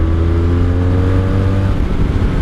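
A 1984 Honda Sabre VF1100S motorcycle engine revs with a steady, loud, close drone and strong low harmonics, held for most of the clip before easing off near the end.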